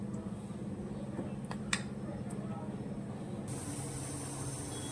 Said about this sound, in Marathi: राईस छान उकळतोय.